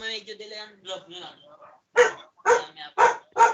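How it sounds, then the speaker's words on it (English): A dog barks in four evenly spaced, loud, close barks, following a stretch of a person talking. "The dog is joining."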